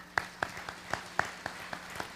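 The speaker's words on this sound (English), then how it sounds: "Let's give them a round of applause." A single person claps in a slow, steady rhythm of about nine distinct, fairly close claps at a community event, with nothing else much heard.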